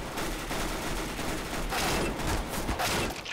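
PP-Bizon submachine gun fire in Counter-Strike: Global Offensive, a dense, continuous burst of rapid shots running the whole time at steady loudness with no talk.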